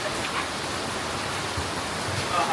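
Steady rain pours down in a dense, even wash of noise during the season's first downpour, constant and close without breaks.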